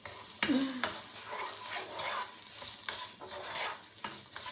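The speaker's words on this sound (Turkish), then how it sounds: "Böyle kavuruyoruz arkadaşlarım." Carrots and other vegetables sauté in a pan with a steady sizzle, while a utensil scrapes and clacks against it in repeated stirring strokes, close and clear with no speech.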